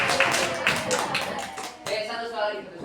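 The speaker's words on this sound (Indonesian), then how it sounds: "Tepuk tangan buat." A short burst of hand claps in an online classroom lesson, sharp separate slaps over about two seconds, with a voice talking alongside.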